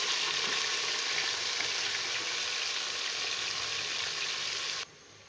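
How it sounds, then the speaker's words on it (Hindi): Mutton pieces for biryani fry lightly in a pan, giving a steady, fairly quiet sizzle with faint stirring that runs evenly for about five seconds before cutting off abruptly. "मटन डाल के हम इसको हल्का सा भूनेंगे कि इसका कच्चापन खत्म हो जाए।"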